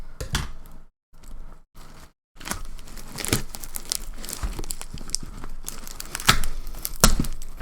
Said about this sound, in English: pieces of paper for the packaging